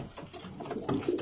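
Young pigeons in a loft in Samawah give short, soft coos, fairly faint and close, over a brief stretch with a slight rise in level near the end.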